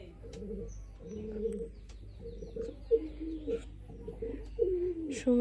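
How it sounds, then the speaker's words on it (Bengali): Pigeons at a home coop cooing in repeated soft, throaty phrases, close by and fairly quiet, with a few faint chirps and background noise between calls. "দেখছেন কিভাবে কবুতর গুলা ডাকে"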